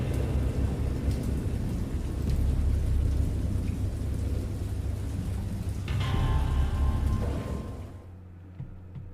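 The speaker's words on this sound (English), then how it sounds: "I know that I heard pearls of thunder and other tones which nature utters only in her wildest notes" A thunderstorm in a horror video game: heavy, steady rain with a deep rolling rumble of thunder throughout, loud and continuous, then cutting off abruptly near the end.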